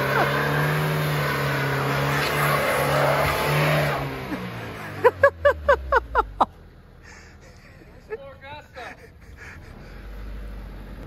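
A car engine revs hard and steadily while towing a backyard shed with a rope, then drops away into a string of sharp rhythmic knocks and scrapes as the shed shifts, with voices faintly present.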